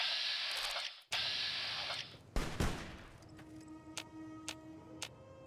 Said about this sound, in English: I hear gunshots, but I don't know where they're coming from.